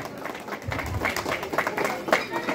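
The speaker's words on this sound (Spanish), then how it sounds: "Palmas para todos ustedes, por favor." An audience claps at a Cruz de Mayo festival. The applause is a steady patter of many hands that builds and holds under someone speaking Spanish over a loudspeaker.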